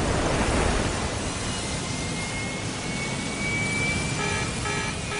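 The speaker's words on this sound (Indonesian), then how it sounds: "Suara mesin semakin berisik." A roaring aircraft engine sound effect from the Ultraman Mebius tokusatsu series swells loud and steady. A rising whine and tonal hum emerge toward the end, and no voices are present.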